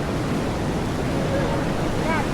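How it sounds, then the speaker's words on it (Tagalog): Strong ocean waves at an overcast Philippine beach make a loud, continuous roaring wash of surf with steady wind rumble and no clear breaks, close to the microphone. "Medyo makulimlim yung panahon dito at saka sobrang lakas ng alon."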